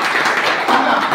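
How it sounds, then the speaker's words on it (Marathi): Audience clapping at a talk on free legal aid, a short dense burst of applause from a crowd in a hall, fairly loud and with no pause. "याचं टाळ्या वाजून तुम्ही स्वागत केलं पाहिजे"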